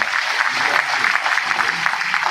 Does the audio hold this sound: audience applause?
yes